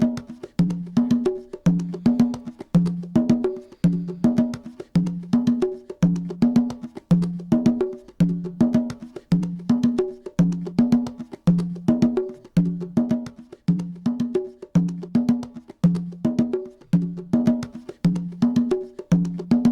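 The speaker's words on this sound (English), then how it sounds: "And it sounds like this with the 1176." Conga pattern run through a Slate 1176-style compressor plug-in, steady repeating hand-drum hits in a tight rhythm with punchy, evenly compressed attacks, playing alone without any talk.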